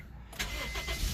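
A car engine turns over and catches, a short starter crank followed by the engine firing into a low rumble, fairly close and heard alone.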